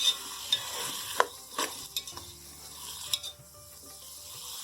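Peas and potatoes fry in a pan with a gentle sizzle while a spoon stirs them, giving several sharp scraping clicks against the pan, close and moderately quiet.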